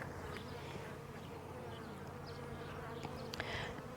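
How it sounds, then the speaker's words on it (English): Female worker honeybees buzz at the hive, a continuous low droning hum from many insects, fairly faint and steady, with a few individual bees passing closer now and then. "These are all worker bees, so these are all female bees."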